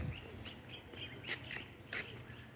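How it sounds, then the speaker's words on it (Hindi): Birds calling in the morning at a farmhouse, a few faint chirps and duck-like calls spaced irregularly against a quiet outdoor background. "सुबह सुबह का मौसम, चिड़ियों की आवाज़ें है"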